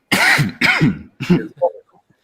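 Three harsh, throaty coughs in quick succession, close and fairly loud, followed by a short softer throat noise and then quiet.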